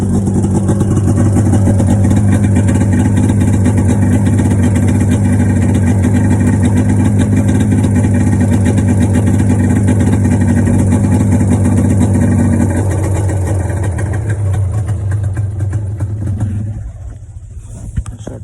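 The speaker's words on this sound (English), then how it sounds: "I don't want to rev the Honda again." A Honda quad idles after a cold start, a loud, steady, rumbling engine drone that holds for a long stretch, dips slightly in tone partway through, then fades out as it is shut off.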